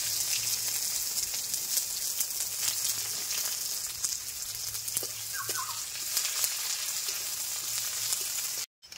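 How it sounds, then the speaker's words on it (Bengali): Bay leaf, garam masala and cumin sizzle in hot oil for a kofta curry, a steady, close crackling hiss that fills the whole stretch without any voices. "তেলের ভেতর আমি দিচ্ছি তেজপাতা, কয়েকটা গরম মশলা, একটু জিরে"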